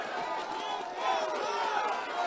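An election campaign rally crowd cheers and applauds in a steady, dense roar of clapping and shouting voices that holds from start to end.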